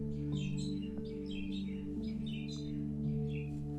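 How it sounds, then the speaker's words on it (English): Birds chirp outdoors in short repeated bursts of tweets, fairly near, over a steady low electrical hum. "I don't know if you guys can hear the birds"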